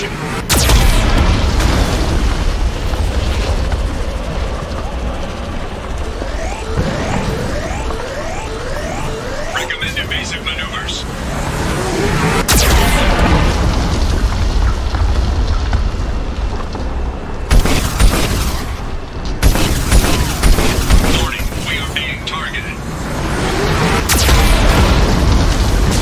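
Heavy booming blasts from a Geth cannon in the video game Mass Effect 2, loud and repeated over a dense, roaring battle soundscape, with a few sharp bursts standing out and a voice briefly heard.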